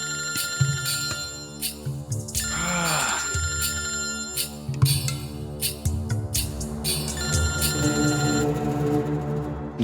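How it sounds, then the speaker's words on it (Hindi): A mobile phone ringtone repeats its melodic ringing pattern for several seconds, loud and clear, with brief voices and room movement around it. "फोन बंद करो ना।"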